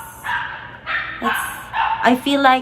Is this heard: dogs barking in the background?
yes